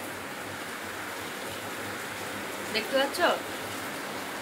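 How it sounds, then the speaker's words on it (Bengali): Heavy rain pours steadily outside, a continuous soft hiss throughout, with a brief spoken phrase close by near the end. "ঝমঝম করে বৃষ্টি হচ্ছে"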